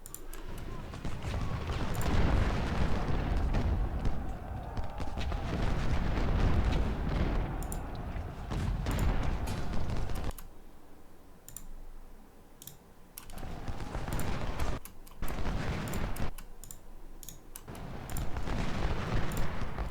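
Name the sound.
cannons firing canister shot in Ultimate General: Civil War video game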